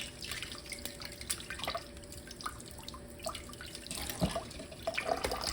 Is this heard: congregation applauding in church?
no